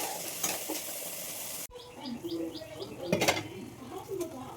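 A fish head going into a pan of cauliflower curry, a sudden clatter followed by soft sizzling and stirring, with faint birdsong chirping in the background.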